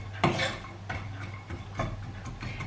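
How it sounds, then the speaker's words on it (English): Half a red onion and two shallots stirred in a pan, with a few close spoon scrapes and clinks over a soft background hum, no talk. "just pop some onions into here, which I'm just going to cook off"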